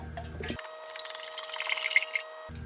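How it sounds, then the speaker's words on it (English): Antifreeze pours into a cooking pot for a homemade borate wood preservative mix, a steady splashing trickle lasting about two seconds, close and fairly loud. "Using my wife's finest pot, I'm going to add the antifreeze first"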